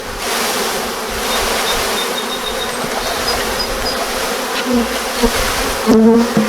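A dense swarm of honeybees around a hive hums steadily and close up during installation of a bee package, a continuous buzzing drone with faint handling noises near the end.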